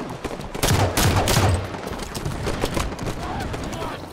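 Rapid bursts of video-game gunfire in Halo 5 Warzone Firefight rattle through a dense mix of game effects, loud and busy at first and then settling into steadier background combat noise, with a voice talking faintly underneath.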